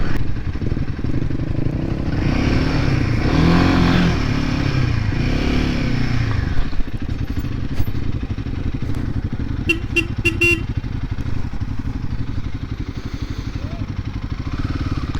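A Royal Enfield Himalayan 450 riding over muddy ground, its engine droning and rising under speech, with a few brief horn-like toots later on.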